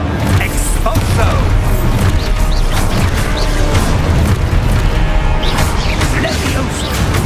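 Spell explosions from the Expulso charm in Hogwarts Legacy, a run of loud booming blasts and crashing impacts amid busy combat noise, with a voice casting spells over the din.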